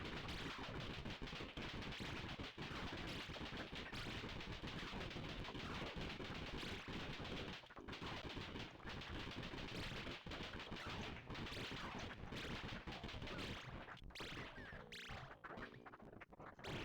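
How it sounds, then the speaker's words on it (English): Sustained, dense automatic Uzi fire in the video game Death Road to Canada, a relentless stream of cracking shots with brief pauses, loud and continuous over many seconds. "I can take the Uzi and just clean this up, I think"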